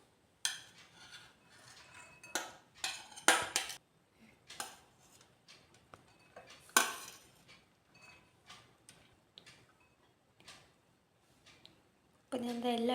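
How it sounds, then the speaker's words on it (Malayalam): Grated vegetables for a mixed veg dosa tipped into a bowl, with scattered soft thumps, clinks and scrapes of utensils against the bowl, fairly close, then a louder rustle at the end. "അപ്പോൾ ഞാൻ എല്ലാ വെജിറ്റബിൾസും ഒരു ബൗളിലേക്ക് ആഡ് ചെയ്ത് കൊടുക്കുന്നുണ്ട്"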